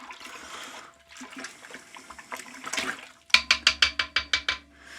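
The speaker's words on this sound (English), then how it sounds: "Now we are adding oxygen to this as we're stirring it" Dry malt extract wort for a Coopers Stout being stirred vigorously in a fermenter, sloshing and swirling water with a run of rhythmic, loud splashing strokes near the end.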